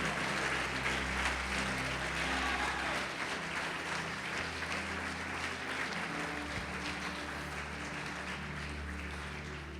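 Church congregation applauding during a Portuguese-language sermon, a steady wash of clapping with low organ or keyboard chords sustained underneath, fairly even in level throughout.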